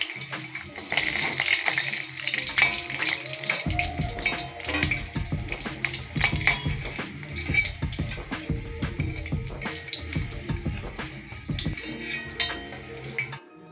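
Kolkata street-food style vegetable chops frying in hot oil, a steady close crackling sizzle with occasional clinks of a utensil against the pan throughout.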